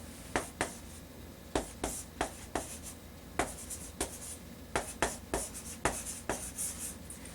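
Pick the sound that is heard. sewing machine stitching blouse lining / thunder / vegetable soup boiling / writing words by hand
writing words by hand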